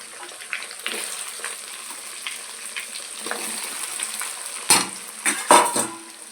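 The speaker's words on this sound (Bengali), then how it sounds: "এবার এই হিংটা আর কালো জিরে আর জোয়ানটা দিয়ে দেবো" Asafoetida, nigella seeds and ajwain hit hot oil for pickle, crackling and sizzling up close, with sharp metallic clinks and scrapes of a spoon against the pan growing louder toward the end.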